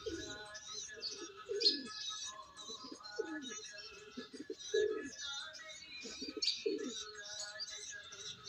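A pigeon coos in low, repeated bursts while feeding its chicks up close, with the chicks' high begging chirps coming in between the coos.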